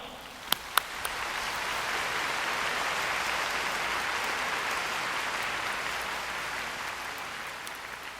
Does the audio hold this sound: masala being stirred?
no